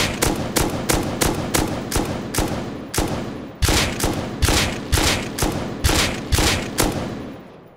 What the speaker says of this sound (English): His gun is shooting faster, I'm sure of it.